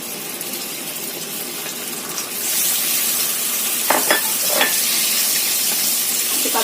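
A steady sizzle in a hot pan rises suddenly as butter is added to melted sugar and stays loud, with a few soft scraping clicks of stirring partway through.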